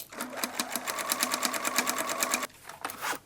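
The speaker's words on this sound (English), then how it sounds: "Edge stitch along the side edges on the right side of the bag." Sewing machine edge stitching the side of a tote bag, a rapid rhythmic mechanical chatter running for about two and a half seconds, a short pause, then a brief second burst, close and alone.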